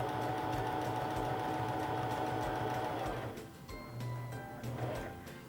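A Singer Fashion Mate 3342 sewing machine stitching a seam runs in a steady, close mechanical whir for about three seconds, then stops, followed by a couple of brief, softer motor bursts.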